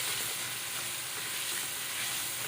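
Fenugreek, black pepper and korma masala roast in a pan with a dense, steady hiss of frying, close and constant, with no voices over it.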